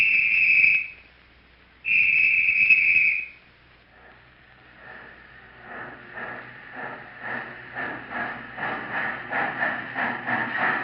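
On a Hollywood film stunt set, a steam train sounds two long whistle blasts, then its rhythmic chugging grows steadily louder and faster as it approaches.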